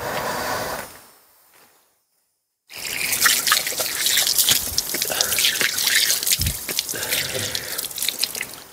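Water runs from a tap at a village house in Dapoli, Konkan: a splashing, trickling flow fades out, a second of silence follows, then the stream returns loud and steady.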